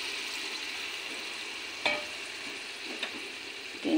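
A pan of Mola fish fries with a steady low sizzle, broken by a few brief clinks and scrapes of a utensil stirring, with no talking.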